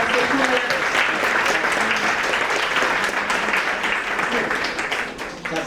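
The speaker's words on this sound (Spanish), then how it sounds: "Aplauso por el pastor Julián." A church congregation at a seminar in Manizales applauds Pastor Julián, with thick sustained clapping throughout, loud and near, and a faint murmur of voices mixed in before it eases a little at the close.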